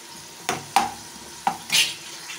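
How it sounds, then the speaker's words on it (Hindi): Tomatoes fry in a pan for an egg, potato and pea dish, with a few sharp scraping stirs and clinks of a spoon against the pan over a faint sizzle, without any talk. "इसमें पे 2 मिनट में टमाटर को भूनूंगी।"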